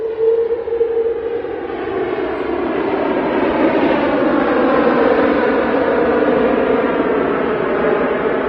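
A Virgin Atlantic airliner roars past at Manchester Airport, its loud, close engine drone sweeping and shifting in pitch as it passes, with no talk over it.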